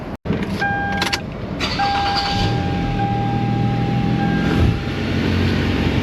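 A Toyota Camry with a newly fitted exhaust pipe cranks with a short sharp burst, then settles into a steady idle with a faint whine under it, heard up close in a shop.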